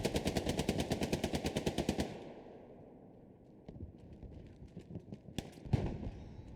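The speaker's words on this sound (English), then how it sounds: "Hard to hit with that that light machine gun." A light machine gun fires a rapid, evenly spaced burst of about fifteen rounds in the Hell Let Loose war game, then falls to quieter distant battle noise with a few scattered shots.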